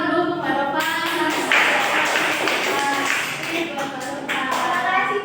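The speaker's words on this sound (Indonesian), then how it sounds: "Beri tepuk tangan dulu untuk Mbak Nova." A fifth-grade primary school class applauds a classmate, with a burst of close, steady clapping from many children filling the room while a teacher speaks over it.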